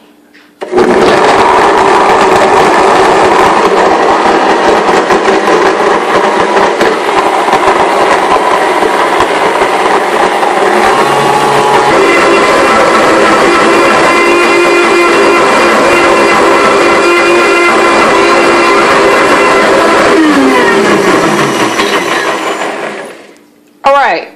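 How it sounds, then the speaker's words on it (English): A powerful Blendtec blender roars loudly and steadily for about twenty seconds, its motor pitch shifting slightly near the end before cutting off abruptly. "The BlendTec is extremely loud."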